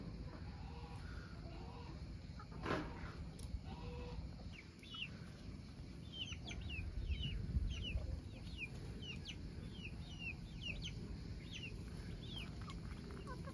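Young chickens on a farm give soft, repeated chirping clucks over a steady outdoor background, quiet and somewhat distant throughout.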